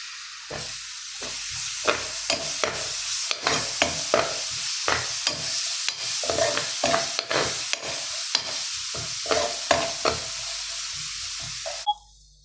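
Ginger garlic paste sizzles and fries in a pan with oil and cinnamon powder, steady hiss broken by a run of sharp stirring scrapes and clinks, close and fairly loud, with no voices.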